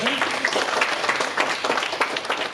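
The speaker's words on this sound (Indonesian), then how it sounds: "Kita tepuk tangan buat kita." A congregation at a church worship service breaks into steady applause, a dense and continuous clatter of many hands that fills the room. Voices are mixed in beneath it.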